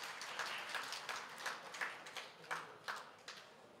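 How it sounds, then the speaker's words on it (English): Scattered, faint applause from a small workshop audience, a handful of separate claps spaced irregularly rather than a full ovation, somewhat distant in a quiet room. "Doesn't that again deserve a round of applause, colleagues?"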